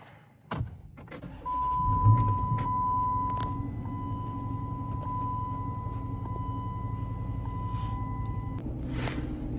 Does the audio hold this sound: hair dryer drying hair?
no